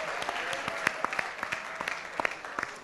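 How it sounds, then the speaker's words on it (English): An audience at a music industry forum applauds for John Snyder, a steady wash of clapping with sharp individual claps standing out, moderately close and continuous throughout. "Let's get a round of applause for John Snyder, everybody."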